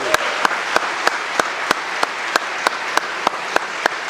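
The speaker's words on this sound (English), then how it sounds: "Give a round of applause for all the speakers of the family" Audience clapping at a memorial service celebrating a life, steady applause from a crowd with regular loud claps punctuating the wash, alone with no talk.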